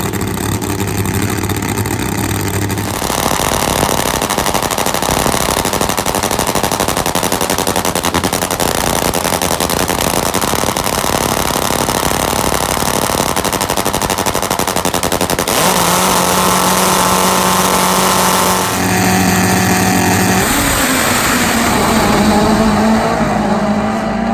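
Top Fuel nitro drag motorcycles race down the strip, their engines letting out a loud, close, crackling roar like rapid gunfire that holds steady and shifts in pitch between runs.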